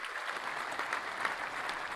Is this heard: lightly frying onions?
no